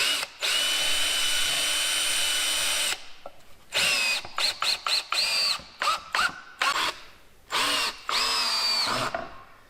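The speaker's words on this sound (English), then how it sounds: "Screwing stuff in." A power drill drives screws into wood while a simple goat hay feeder is built, first as one long steady whir, then as a run of short, sharp, stop-start bursts, loud and close with no talk.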